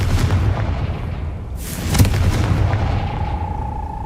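A Confringo spell explosion in Hogwarts Legacy, a deep rumbling boom with a sharp burst around the middle of the clip, loud and close over a continuous roar, followed by a faint steady tone.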